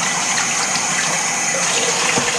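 Water from a tap runs hard into a soup pot as it is washed, making a loud, continuous gushing splash up close with slight shifts as the pot moves under the stream.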